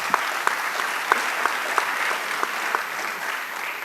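Conference audience at a UAE talent forum breaking into steady, moderately loud applause, a dense patter of many hands with a few sharper individual claps standing out.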